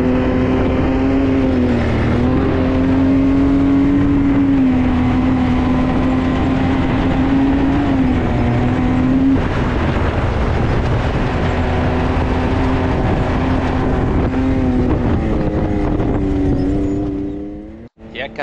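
A Can-Am buggy driving on a road near Kanab, Utah, gives a loud, steady engine drone with shifting pitch and wind rush, fading out abruptly at the end.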